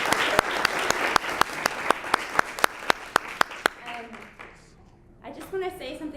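Audience applause at an artist talk, a close, steady run of evenly spaced claps for about four seconds that stops abruptly, followed by soft voices and room murmur.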